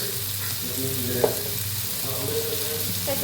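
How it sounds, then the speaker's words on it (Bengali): Masala with Kashmiri chili powder frying in a pan, a steady close sizzle with light stirring scrapes throughout, no voices. "এবার এটাকে আমরা ভালো করে ভেজে নেব"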